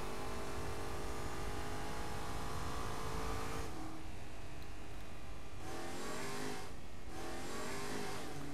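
Tuned car engine in Saints Row The Third revving hard with rising and falling pitch sweeps as it accelerates and shifts, loud and close amid steady road roar.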